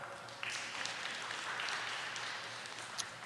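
Audience applause at a grade 3 academic bowl quiz evening at a primary school, a faint, steady wash of clapping from a crowd heard at a distance.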